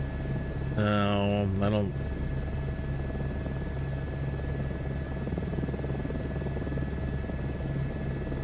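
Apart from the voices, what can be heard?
helicopter flying in a flight simulator video game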